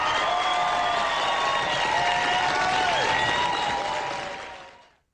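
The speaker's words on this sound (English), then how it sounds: "Let's give these two a round of applause for a job well done." A round of applause for two people at the close of a live trading and market analysis stream, steady dense clapping with tonal sounds running through it, fading out over the last second.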